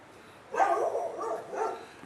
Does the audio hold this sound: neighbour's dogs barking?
yes